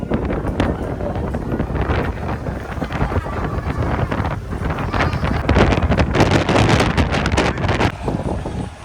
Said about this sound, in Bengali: দেখুন হাওয়া চলছে